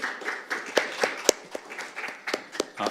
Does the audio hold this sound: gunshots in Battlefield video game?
no